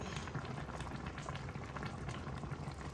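Nigerian waterleaf soup bubbling in a cooking pot, a dense, steady boil with continuous soft popping and gurgling throughout, close and even in level with no talk.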